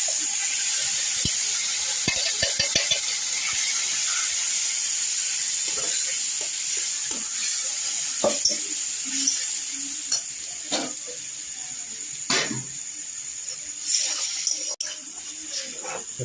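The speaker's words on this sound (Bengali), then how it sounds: "জিরে দিলাম, শুকনো লঙ্কা তেজপাতা দিলাম। এই ফোড়নটা একটু ভাজা হবে।" Cumin seeds, dried red chilies and bay leaves fry in hot oil with ginger and green chili paste, a steady high sizzle broken by scattered clinks and scrapes of stirring, without talk.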